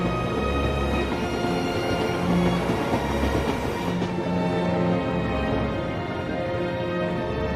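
A train rolls steadily through an AI-generated animated scene, its continuous rumble and faint rhythmic rail clatter holding at an even, fairly loud level throughout, with no voices.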